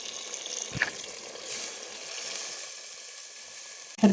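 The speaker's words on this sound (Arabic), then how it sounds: "من بعد ما تشحرت اللوبيا غنزيدها كاس ديال الماء، فيه نص لتر ديال الماء" About half a litre of water poured into a pan of sautéed white beans sets off a steady, close sizzling hiss that runs for several seconds and ends with a soft knock.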